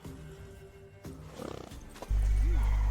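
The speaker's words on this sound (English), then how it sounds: "Worthy of the best horse. The mare is yours." A horse in The Witcher 3 game, with a brief snort and neigh-like whinny rising near the end, following quieter game ambience and a low rumbling tone.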